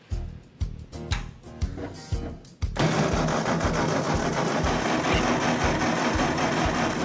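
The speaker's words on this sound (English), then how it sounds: "I'm actually gonna fire it up for you right now." A Ford 8N tractor engine cranks in several uneven bursts, then catches and settles into a loud, steady running rumble close by with no talk over it.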